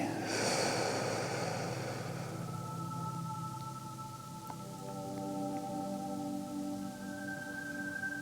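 A long, slow exhaled breath during a guided sophrology relaxation session, soft and close, drifting into gentle sustained relaxing music.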